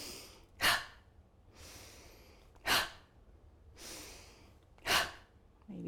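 Slow exercise breathing during an upper-body release routine: three loud, sharp inhales or exhales spaced about two seconds apart, with softer airy breaths between them, close to the mic and without talking.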